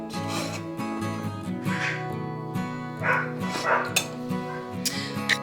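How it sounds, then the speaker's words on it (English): A dog barks and whimpers up close in repeated yips and woofs, under a bed of tonal indoor sound. "We're gonna let the dog in."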